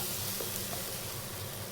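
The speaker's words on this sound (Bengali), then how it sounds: "এখন আমি এই মশলাটাকে কষিয়ে নেব" Spice paste with a little turmeric sautéing in a pan for a Bengali katla fish kalia, a steady close hiss and sizzle with no voices.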